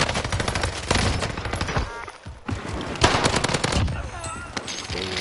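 Rapid gunfire crackles through a multiplayer shooter as a sniper shot strikes the player, with dense bursts of automatic fire and sharp reports continuing throughout, loud and close.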